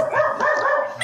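A dog gives a short, excited bark-like whine lasting about a second, close and fairly loud, with no one talking over it.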